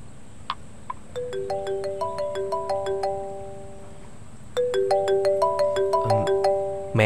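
A mobile phone plays a repeating melodic ringtone, loud and clear, with a short pause before the tune starts over, and no talk over it.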